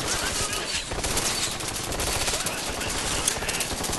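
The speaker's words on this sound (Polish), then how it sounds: "już się zaczynają strzały, już wszyscy wiedzą gdzie jesteśmy" Dense, continuous rapid gunfire from the video game Ghost Recon Future Soldier, with overlapping bursts and shots, loud and steady throughout, like an intense firefight.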